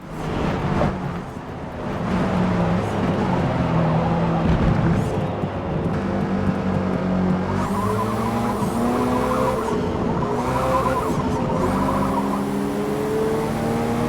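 Race car engine in Forza Motorsport revving and accelerating through gears with rising whine, loud and continuous, with tire noise and other cars close by.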